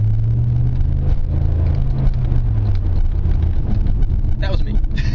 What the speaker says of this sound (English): I don't know if you heard that, but that was the Mustang